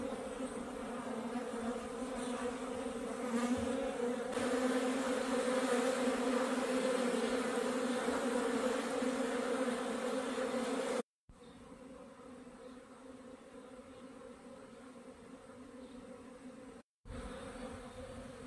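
Honeybees at a spring apiary pour out of their hives on a cleansing flight, a dense continuous buzzing hum that stays loud and steady, broken by two brief dropouts, with no talking.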